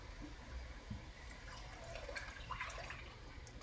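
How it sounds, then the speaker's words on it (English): Reserved bean cooking liquid poured straight into a pot for beans and rice, a faint, steady watery splash and trickle that lasts a few seconds with no talking. "we're going to go ahead and put our reserved bean liquid, so the cooking liquid that we cooked our beans in originally"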